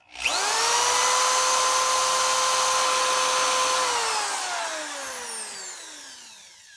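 A power drill bores a hole through an axe handle, whining loudly and steadily for about four seconds before winding down in a falling pitch as the motor slows.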